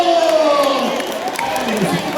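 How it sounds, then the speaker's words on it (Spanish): Wedding guests cheer and applaud in a lively, steady crowd wash, with voices calling out over the clapping. "¡Que vengan los aplausos!"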